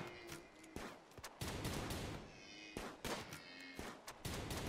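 Gunfire from a video game as players shoot down enemies, including ibexes, during a frantic fight: repeated sharp shots and bursts of fire in a dense, noisy mix, quite faint overall.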